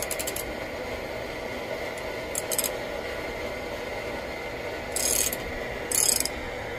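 Ratchet with a 9/16 socket working on a Coleman Air-O-Lantern held in a vise, a few short clicking ratchet bursts spaced apart, close over a quiet background hiss.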